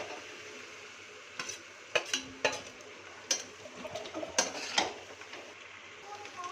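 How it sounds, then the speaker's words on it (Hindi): Fish head and fish pieces cooking in masala for an Odia fish head curry, with soft sizzling and scattered scrapes and clinks of a spoon stirring the pan. "एबे आमे माछ मुंड आ माछ पीस जो रखी ताको पकईकी टिके कषी नबा।"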